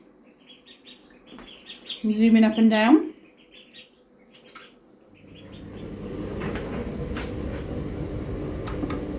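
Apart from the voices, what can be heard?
ducks in a bathtub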